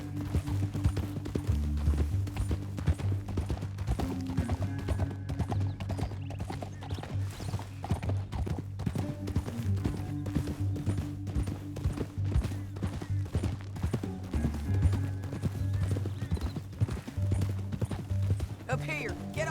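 Rhythmic clip-clop of horses' hooves on hard ground, continuous and fairly close, with occasional voices over the steady hoofbeats.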